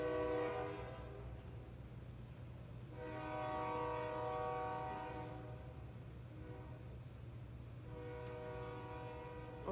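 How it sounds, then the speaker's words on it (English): A train rumbles past steadily with a low continuous drone, while its horn sounds in three long harmonic blasts, clearly audible at moderate distance. "We're just going to count trains instead."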